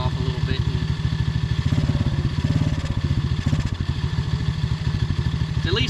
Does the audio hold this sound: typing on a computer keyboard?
no